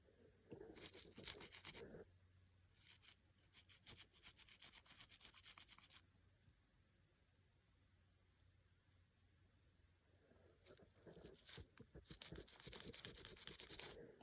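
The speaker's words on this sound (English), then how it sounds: "Try to get that toothbrush back into that crack area." A toothbrush scrubs vintage costume jewelry into crevices, in two bursts of close, bright bristle rubbing split by a quiet pause of several seconds.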